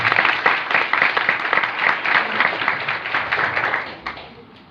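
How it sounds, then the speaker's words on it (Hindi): Loud applause from a church congregation, a dense wash of many hands clapping steadily for about four seconds before tapering off, with no voices over it. "खुदा के जलाल के लिए जोरदार तालियां बजाएं।"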